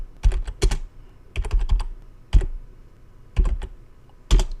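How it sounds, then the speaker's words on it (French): Keystrokes on a computer keyboard typing a search term into a plugin search bar, heard as short clustered bursts of clicks with brief pauses between groups, close and clear with no voices. "Sur la barre de recherche, je vais taper Kadence bloc."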